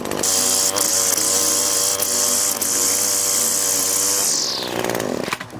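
Weed whip string trimmer cutting grass, a loud, high-pitched motor whine close by that holds steady, then winds down near the end.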